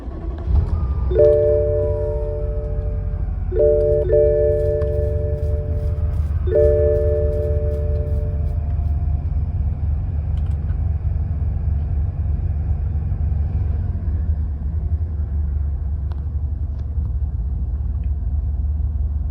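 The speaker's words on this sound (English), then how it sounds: "let's go ahead and fire her up and see how she sounds" A BMW 750Li V12 cranks and catches after a top-end refresh, the starter whine giving way to a steady low idle rumble that holds evenly throughout, heard up close with no talking.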